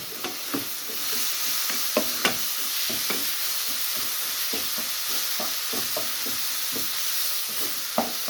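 Grated turnip sizzles in hot ghee for halwa, a steady frying hiss with repeated stirring scrapes and taps of the spoon throughout.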